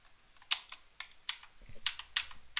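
Fingers tap on a computer keyboard in short, uneven bursts of sharp clicks, close and fairly quiet, with a few pauses between runs of keystrokes.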